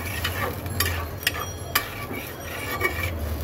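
Fish masala with nandi bele fish fried down in oil in a pan, a soft sizzle under several sharp scraping clicks of a spatula against the pan spaced through the stirring.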